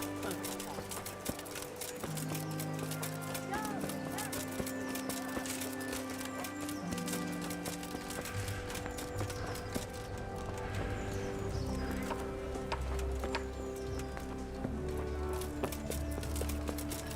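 Horse hooves clip-clopping steadily and an occasional neigh from a medieval-themed video game, layered over continuous game music and ambience throughout.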